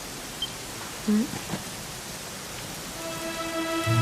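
Rain falls in the video game Dragon Quest XI as a soft, continuous hiss. A few brief voice-like sounds cut in, and sustained musical tones rise over the rain toward the end.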